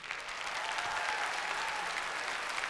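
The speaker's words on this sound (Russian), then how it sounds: "Ваши аплодисменты." Audience applause at a televised talent show after a mental arithmetic team's act, steady dense clapping filling the whole moment at an even level with no voices over it.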